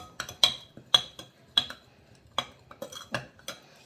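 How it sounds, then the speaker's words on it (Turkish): A utensil stirs apple pie batter with baking powder in a bowl, giving a series of sharp clinks and scrapes against the side, close and clear, irregularly spaced, with no talking. "Bir de kabartma tozunu koyuyoruz. Şimdi karıştırıyoruz."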